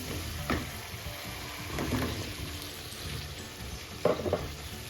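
Pieces of taro dropped into a pan of sizzling, well-fried spice masala for a hilsa fish curry: a steady close frying hiss broken by a few scraping, clattering bursts as the pieces go in and are stirred, with no talking.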